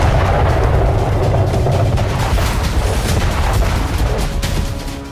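Heavy blasts in the Black Sea: loud, continuous booming and rumbling explosions that fill the whole stretch, fading slightly at the very end.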